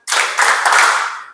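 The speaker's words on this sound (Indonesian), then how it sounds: "Kalau tak suka hati tepuk tangan." A group clapping hands along to a Malay children's action song in a classroom lesson, a sudden burst of brisk clapping that holds steady and then fades, with no voices over it.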